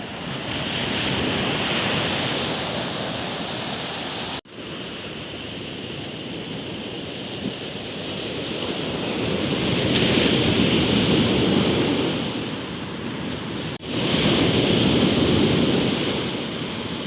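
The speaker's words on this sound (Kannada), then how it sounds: "ಈ ಒಂದು ಅಲೆಗಳ ಒಂದು ಸದ್ದು ಮನಸ್ಸಿಗೆ ಒಂದು ತುಂಬ ಖುಷಿಯನ್ನು ಕೊಡುತ್ತೆ" Ocean waves roll and wash onto the shore at Honavar in a continuous roar, swelling and easing, with wind buffeting the microphone.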